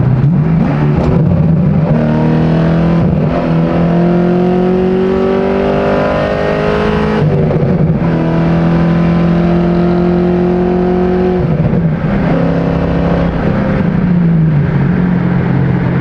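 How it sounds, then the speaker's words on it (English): Car accelerating hard from a standstill, engine revving loud and close with rising pitch through several gear changes, the roar continuous throughout with no talk. "we kind of got to step on the gas once we get an opening"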